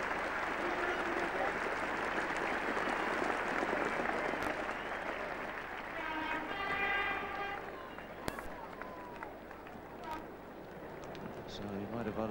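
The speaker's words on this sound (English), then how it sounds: "And the crowd here at Old Trafford rising to greet him" Cricket crowd at Old Trafford applauding a departing batsman during the 1977 England v Australia Test, with dense, sustained clapping that gradually thins out as a commentator talks over it.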